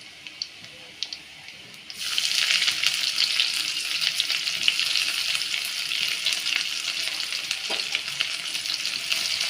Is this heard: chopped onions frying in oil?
yes